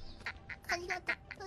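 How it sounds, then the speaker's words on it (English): Cartoonish duck quacks from a video game, a string of about seven short nasal calls in uneven rhythm, close and clear over a low background hum. "Actual duck noises?"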